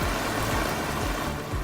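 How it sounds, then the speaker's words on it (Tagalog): Heavy, unbroken rain pours down over a flooded city street in Valenzuela, a dense steady wash of noise with no pauses and no voices. "Tuloy-tuloy pa din ang buhos ng ulan dito sa lungsod ng Valenzuela"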